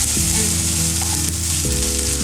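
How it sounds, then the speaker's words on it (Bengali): Onion frying in hot oil with crushed ginger and garlic added, for Bengali ghugni, a steady close sizzle with low hum and a few stirring bumps, no talk. "পেঁয়াজের সাথে আদা রসুন ভাজবো।"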